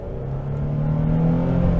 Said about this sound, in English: it's effortless acceleration in this pickup truck